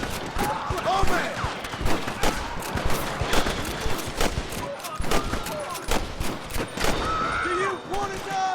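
Rapid gunfire bursts and single shots from the Red Dead Redemption video game, dense and loud in a busy fight, with voices and game sounds mixed in throughout.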